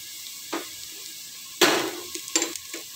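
Onion and ginger frying in a pan, with a few sharp, close clatters of a utensil stirring, one louder burst of sizzling noise, and quieter hissing between the stirs.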